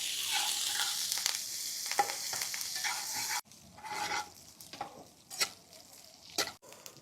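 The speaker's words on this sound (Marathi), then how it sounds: "तडका व्यवस्थित मिक्स करून घेऊ।" A sizzling tempering of mustard seeds, cumin, fennel, green chilies and curry leaves is stirred in hot oil for poha, with a steady crackle followed by scraping spoon strokes and clinks against the pan.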